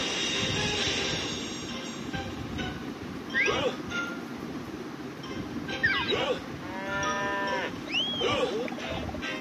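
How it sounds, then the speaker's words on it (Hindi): Several drawn-out cow moos rise and fall over a steady, noisy background rumble. "अरे ये गाय ही है।"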